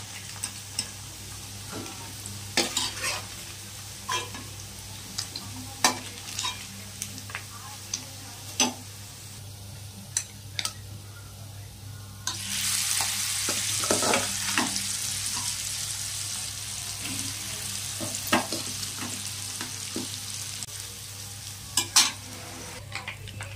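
Paneer pieces fry in an oil-filled pan with a soft, constant sizzle, broken by scattered sharp clicks and scrapes as pieces are moved and turned, then a louder, hissing surge of frying as more paneer goes into the pan.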